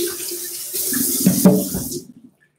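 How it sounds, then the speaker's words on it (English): Warm tap water runs into a sink as a blender top is rinsed under it, a close, steady splashing rush that swells and then cuts off abruptly near the end. "I'm also going to rinse it with warm water"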